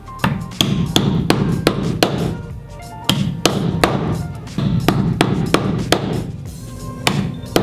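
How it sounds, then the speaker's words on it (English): A hammer drives a metal protective plate onto a wooden stud over the wiring in a tiny house build, a series of sharp, close strikes in quick bursts with short pauses between them. "Just place it over where the wire is gonna go,"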